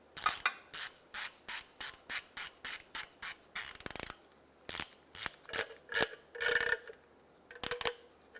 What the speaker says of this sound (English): So these 3 bolts on this cover are going to get torqued down to 33 foot-pounds.